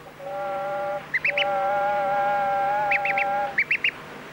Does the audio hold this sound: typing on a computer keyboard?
no